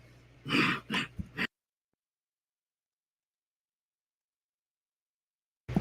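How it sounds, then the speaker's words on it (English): A single hoarse, throaty cough in a few quick bursts, close and loud, followed by silence. "that was a good cough"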